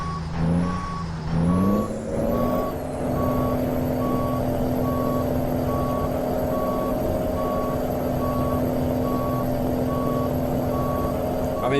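Steady electronic reversing beeps repeat at an even pace over a constant truck engine drone while a big rig backs a trailer in American Truck Simulator, the engine revving briefly at the start, with no talking.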